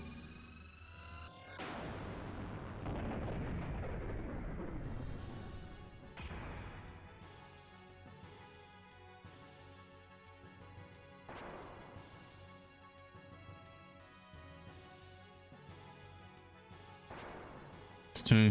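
A mech's single-use cannon fires in the video game Xenogears, a heavy crashing impact followed by a few sharp metallic hits that ring out at moderate volume, with no talking.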